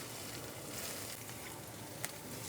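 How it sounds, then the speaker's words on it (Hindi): Garlic, ginger, ajwain and cumin fry in a pan, giving a steady, quiet hissing sizzle with faint crackles and one brief pop, and no voices over it. "इस लहसुन अदरक के साथ ही आप इसको मिक्स करके फ्राई कर लें"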